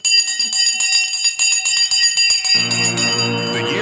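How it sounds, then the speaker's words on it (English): A bright metallic bell rings at a stock market opening, its sustained tone ringing continuously and loudly, joined near the end by a rising murmur of voices and fuller crowd noise. "In 3, 2, 1, we're about to ring the bell."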